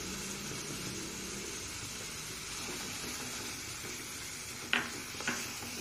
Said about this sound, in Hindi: अब इसमें टमाटर प्यूरी ऐड कर देंगे।